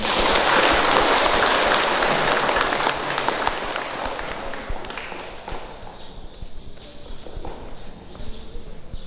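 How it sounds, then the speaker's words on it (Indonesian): Guests at a wedding ceremony burst into loud, full applause that is strongest at the start, then gradually fades into softer scattered clapping and room noise. "kita nyatakan sukacita kita dalam tepuk tangan"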